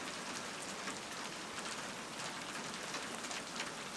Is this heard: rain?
yes